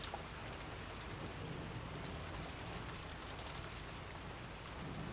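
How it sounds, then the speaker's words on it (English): Steady rain in the video game Higurashi When They Cry falls without a break at an empty bus stop, a dense hiss of drops across the whole stretch with no voices. "2 young students, Mion and Rika, approach the empty Hinamizawa bus stop with only the sound of rain to be heard."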